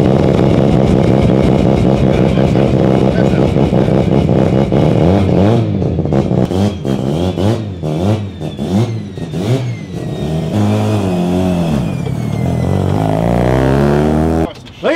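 An engine revs up and down repeatedly, its pitch climbing and falling in loud surges, with some clatter near the end.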